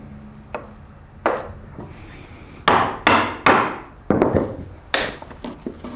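Sharp strikes of a mallet driving a Narex chisel into wood, about eight to ten loud separate knocks in an irregular rhythm, close by, with no talking.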